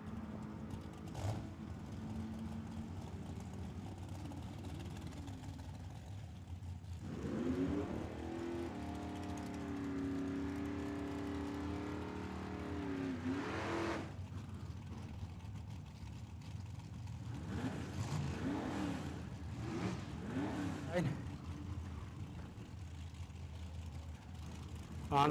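A Ford Mustang drag races at Tucson Dragway, its engine climbing in a rising, wavering roar for several seconds at mid-distance, surrounded by continuous track noise and scattered crowd voices.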